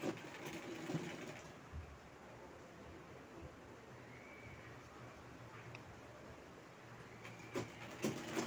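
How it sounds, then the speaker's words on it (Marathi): A sewing machine runs steadily, stitching the side seam of a printed baby frock, a soft continuous whirring hum that stays quiet and fairly even before trailing off near the end. "साईडनं शिलाई घ्यायची आहे."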